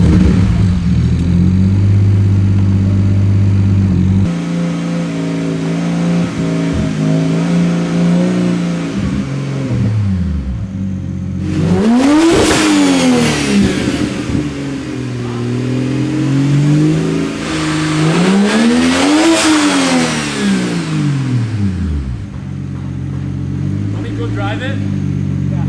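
Single-turbo BMW 335i pulled through the gears on the road, the engine swelling in two long surging revs with rising and falling pitch after a steady cruising drone, loud and close inside the cabin.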